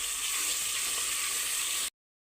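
Chili powder, turmeric, coconut powder, clove powder and salt sizzle and crackle in a hot frying pan for egg curry as they are stirred, a steady close frying hiss that cuts off abruptly near the end.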